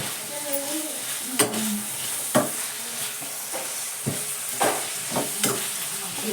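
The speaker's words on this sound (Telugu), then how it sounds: "ఉల్లిపాయలు వేసాను, ఫ్రై చేస్తున్నాను." Onions frying in a pan for a curry, a steady sizzle with several sharp scrapes and clacks of a spatula stirring at irregular intervals, close and moderately loud, no talking.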